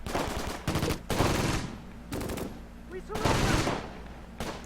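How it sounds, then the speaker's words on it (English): Gunfire in the Close Combat World War II strategy game, set around Caen: several dense bursts of rapid machine-gun shots come in clusters with brief lulls between them, fairly loud and busy. "I still see machine gun fire coming from here."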